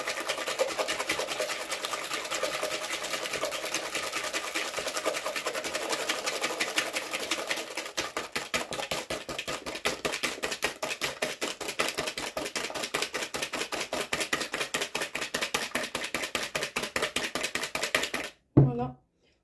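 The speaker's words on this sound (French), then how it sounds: "je fouette bien" Batter for an apricot clafoutis whisked briskly in a bowl, a fast continuous ticking and clattering that runs steadily for nearly twenty seconds before stopping with a final knock.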